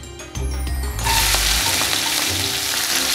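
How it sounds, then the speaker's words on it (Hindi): Cumin seeds crackle and pop in hot oil while cooking palak paneer; after a low rumbling start, a dense loud sizzle with scattered crackles swells and holds steady, close up and with no voices. "लेट द क्यूमिन और द जीरा क्रैकल"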